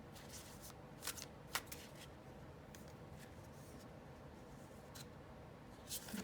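Tarot cards being shuffled, a quiet close hiss of sliding cards with a few sharp flicks and taps scattered through, heard alone.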